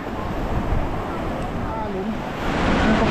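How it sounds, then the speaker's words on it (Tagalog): Steady wind rushes across the microphone at a seaside resort in Real, Quezon, in a continuous low roar, with a faint wash of surf underneath, swelling slightly toward the end. "Sarap ng hangin dito."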